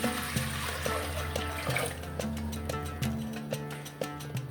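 Water running into a cooking pot for yakhni pulao, a steady close pour with clinks and tonal ringing from the pot throughout.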